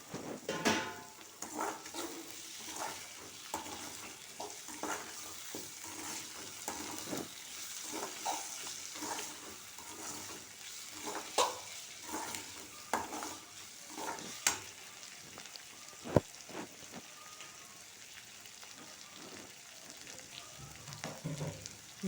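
Chopped tomato sizzles in hot oil in a pan for rava upma while a spoon stirs and scrapes the pan in irregular strokes, with one sharp knock partway through, all close and steady throughout.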